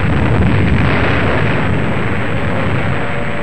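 Explosions from the attack on Pearl Harbor roar as a dense, continuous loud blast of noise in old wartime newsreel sound, with no separate bangs standing out.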